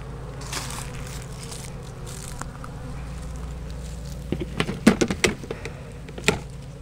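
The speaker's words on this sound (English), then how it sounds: "Lots of nurse bees on this." Honey bees, many of them nurse bees, drone steadily on a hive frame during a beekeeping mite check, a dense, close hum that runs throughout with a few sharper crackles and bumps near the end.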